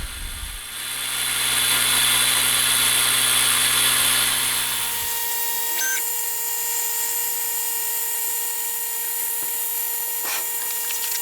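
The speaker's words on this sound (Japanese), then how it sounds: "座面の部分の部品カットはレーザー加工機使っていきます。" A laser cutter slicing plywood seat parts for a Honda RC146 replica seat: a steady mechanical hum with a low drone that drops away about halfway, leaving a thin whine and fan noise, with no talk.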